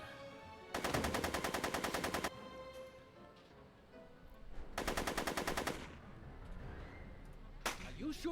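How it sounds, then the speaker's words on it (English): Video game gunfire in Back to the Future: The Game: two loud bursts of rapid automatic shots, each lasting over a second and separated by a few seconds of quieter background. A short sound follows near the end. "Are you shooting at me?"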